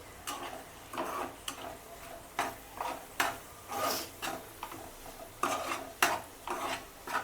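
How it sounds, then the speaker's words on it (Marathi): Ginger-garlic paste being stirred and sautéed in oil in a home kitchen pan, with rhythmic spoon scrapes and clinks against the pan at close range, no voices. "आता मी याच्यात टाकलेली अद्रक लसूणची पेस्ट आणि ती छानपैकी आपण तेलामध्ये परतून घेणार आहे"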